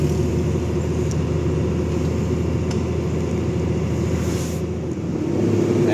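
Cabin view of a truck engine driving through the Baluran National Park forest road in hot dry-season weather, a steady loud low rumble with a brief dip and rise as it shifts from second to third gear.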